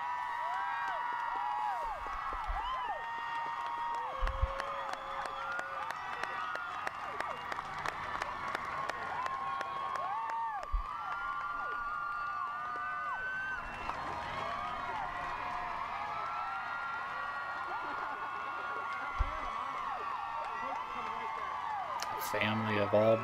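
A crowd cheers, whoops and applauds outside a family's newly rebuilt house, sustained and fairly loud throughout with voices shouting over the clapping.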